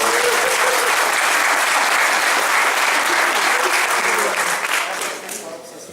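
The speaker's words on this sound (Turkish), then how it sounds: "Kendisini kocaman alkışlayalım bu kadar." Dense, loud audience applause for a singer at a Turkish folk music performance, a steady wash of many hands that holds for several seconds and then fades toward the end.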